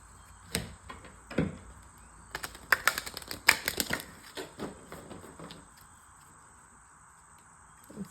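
Angel cards are shuffled in a quiet room: soft, crisp flicking taps, a few scattered at first, then a quick clustered run of riffles before fading to near silence.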